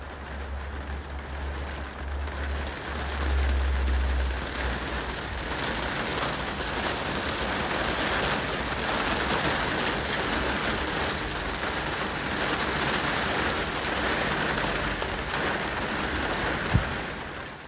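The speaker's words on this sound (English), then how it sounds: "So hailstones have stopped play temporarily, but the weather's so changeable at the moment" Hailstones and rain pouring steadily onto a garden, a dense continuous hiss and patter that swells after the first few seconds and holds loud throughout, with a single sharp knock near the end.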